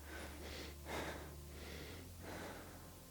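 A few quiet, shallow breaths drawn high in the shoulders during a yoga breathing exercise, soft airy inhales and exhales close to the microphone over a faint low hum, with no talk.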